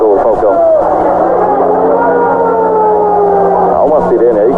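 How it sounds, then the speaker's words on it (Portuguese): A loud wailing siren rises and falls over football crowd noise at Estádio Internacional and an excited commentator speaking, the tone sweeping steadily through the whole stretch. "Há uma sirene aí"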